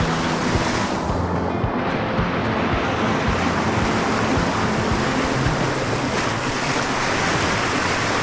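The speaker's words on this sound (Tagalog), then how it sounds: "Lakas ng alon!" Strong sea waves surge and crash at a beach in Brunei, a loud, continuous roar of surf heavy with wind buffeting the microphone, with no talking.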